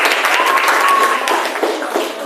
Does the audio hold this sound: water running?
no